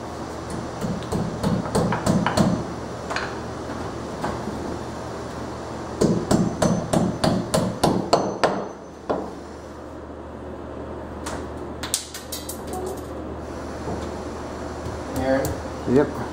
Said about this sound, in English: Now, if you would please hand me the hammer